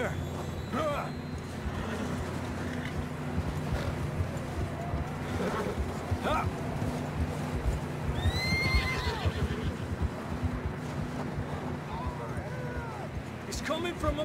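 In the Red Dead Redemption 2 video game, horses whinny and snort several times over clip-clopping hooves and a steady ambient bed, with game characters speaking now and then.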